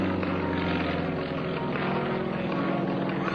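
A 365-horsepower propeller aerobatic plane, one of the Firebirds Delta Team, flies at an air show, its engine holding a loud, steady drone with a rich propeller hum throughout and no speech.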